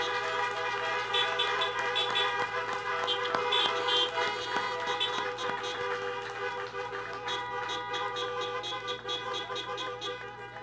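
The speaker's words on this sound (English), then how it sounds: "please honk your horns and flash your lights" Many car horns honk together at a drive-in high school graduation, overlapping toots and blasts from a crowd of vehicles, steady and layered at a distance over a low hum.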